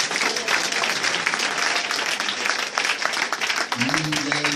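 A church congregation breaks into dense, sustained applause and cheering for Jesus, the clapping filling the room continuously before voices rise near the end.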